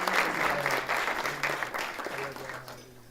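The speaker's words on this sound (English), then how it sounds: "Give a huge round of applause" An audience at a Bennett University event applauds a guest speaker, a dense sustained wash of clapping that tapers slightly, with faint voices and low background hum underneath.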